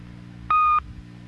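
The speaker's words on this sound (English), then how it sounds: "In a few seconds from now, you'll hear a beep." A single electronic answering machine beep, a clean steady tone lasting about a third of a second, loud and alone over a faint low hum.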